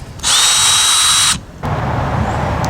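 A Hart cordless drill, a Walmart-brand tool, runs in reverse to back wood screws out of wood, giving a loud, steady high whine for about a second before stopping, followed by lower noise.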